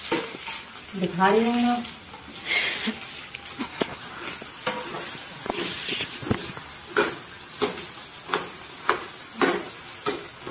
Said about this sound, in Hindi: अब मैं आलू डाल रही हूँ। तेल हमारा गर्म हो गया है, आलू डालूंगी